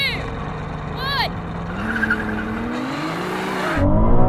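Drag race car launching from the start line on cold tyres, with a brief tyre squeal and engine roar rising and falling, while voices speak over it.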